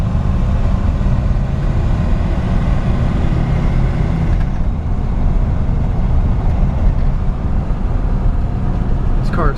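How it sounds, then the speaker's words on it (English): A 1952 Oldsmobile Futuramic 88 running quietly, a low, steady engine rumble and road hum from inside the car, continuous and even under someone talking. "This car is so quiet."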